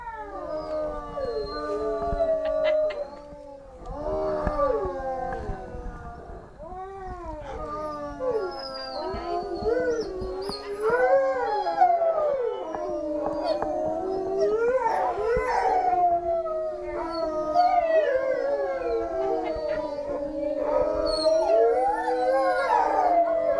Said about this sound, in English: They might start howling.